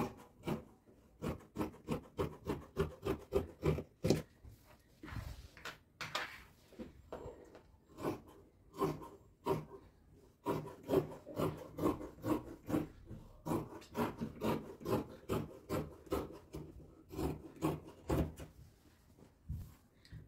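A piece of wood, measured to 40 by 11 centimetres, being cut by hand with a saw: steady rhythmic back-and-forth strokes, close and distinct, with a brief pause midway before the even strokes resume.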